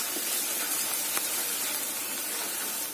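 Onions sautéing with salt in a pan for a sardine fish curry give off a steady, close, even sizzle that hisses on without pause.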